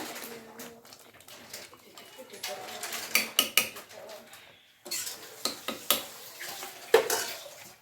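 A spoon scrapes and clinks against a pot while double bean sambar is stirred, giving sharp close metallic knocks in irregular bursts with a brief pause midway and faint background sounds.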